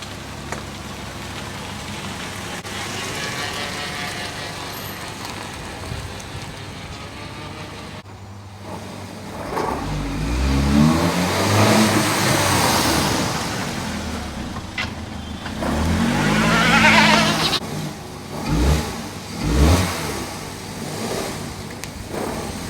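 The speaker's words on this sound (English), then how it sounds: "I'm going to get a video of me driving out and back towards you with this on" A Vauxhall Corsa with an SR Performance ram air induction kit drives away and returns past, engine rumble swelling loudly as it nears and fading as it goes, with a steady background hiss throughout.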